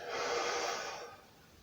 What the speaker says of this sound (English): We're breathing in